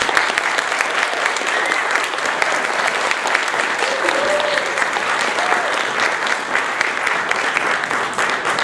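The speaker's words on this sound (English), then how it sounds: "So again, another big round of applause." A large crowd gives a big round of applause at a welcome ceremony featuring a high school Navy JROTC group. The clapping is steady, dense and sustained throughout, with no voices standing out.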